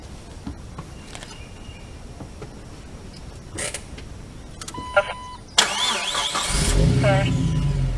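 A 2002 Jeep Wrangler TJ engine cranks and catches partway through, rising into a steady idle, heard outdoors in a state park after some faint creaks and movement, with brief voices over it.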